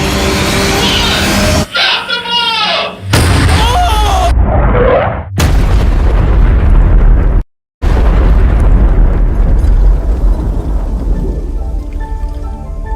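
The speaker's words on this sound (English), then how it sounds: "Using our last bit of spare fuel, the pyrotechnics quickly re-rigged the bomb." A homemade fuel bomb explodes in a series of loud, abrupt bursts and booms, each cut off sharply, followed by a long crackling, rumbling tail as the blast dies away.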